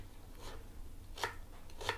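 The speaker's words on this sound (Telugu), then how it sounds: "ఇవి ఉల్లిపాయ, టమాటాలు, టమాటా కూడా కట్ చేస్తాను." A knife chops onions and tomatoes on a board for a pigeon pea curry, with a few sparse, quiet strikes spaced apart and no talking.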